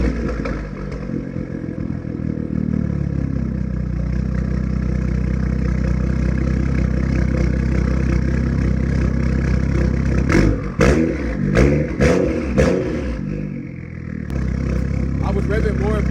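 A modified BMW F10 535i idles steadily after a cold start, its engine rumble loud and close throughout, with a few brief revs blipping in around the middle while someone talks over it.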